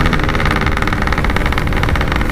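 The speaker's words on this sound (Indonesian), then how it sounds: "biar gue bisa akselerasi mesin" A Yamaha RX King motorcycle engine runs with a loud, close, continuous buzzing rumble and a rapid pulsing beat. The level holds steady throughout, with no voices.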